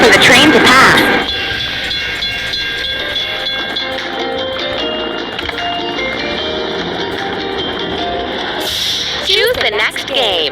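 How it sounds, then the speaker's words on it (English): Train rumbling and clattering past a closed level crossing in a kids' truck video game, loud and continuous with tonal chimes, and a narrator's voice at the start. "We have to wait for the train to pass."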